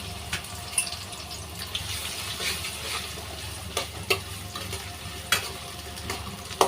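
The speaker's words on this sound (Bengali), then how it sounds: "পেঁয়াজ আর রসুনটা লাল লাল করে ভেজে নিলাম" Onion and garlic frying in soybean oil in a wok give a steady, close hiss and sizzle, broken by a few sharp clinks and scrapes of stirring.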